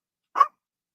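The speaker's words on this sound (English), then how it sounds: "Nobody wants to hear you barking." A single sharp dog bark, loud and close, standing alone in otherwise silent surroundings.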